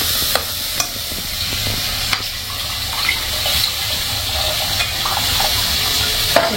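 Masala spices frying in oil for a soya kofta curry sizzle and bubble after a splash of water, with occasional spoon-stirring knocks, continuous and close.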